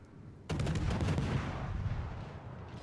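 Heavy naval gunfire from a destroyer battle game, a sudden loud salvo booming in and rolling into a long, dense rumble of shots and explosions that slowly decays.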